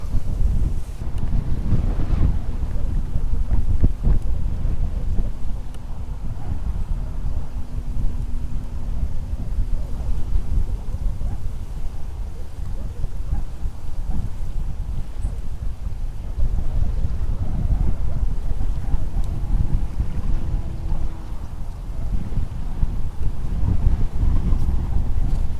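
Steady wind buffets the microphone on a fishing boat on open water during a cold front in December, a constant low roar with faint hull and wave noise underneath.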